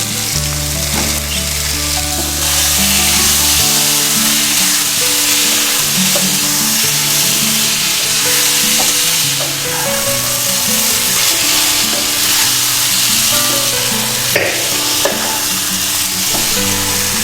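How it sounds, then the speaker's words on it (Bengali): Soya chunks and potatoes sizzle steadily in hot oil with spices for a Bengali soyabean curry, a loud, continuous frying hiss with faint stirring throughout and no voices. "মশলার সাথে আলু এবং সোয়াবিন খুব ভালো করে আমি কষিয়ে নিলাম"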